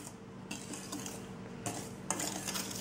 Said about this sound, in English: you're just gonna mix this flour gently